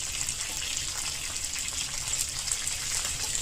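Water poured into a cooking pot (handi) for boiling basmati rice, a steady close gushing stream with a bright splashing hiss and no talking.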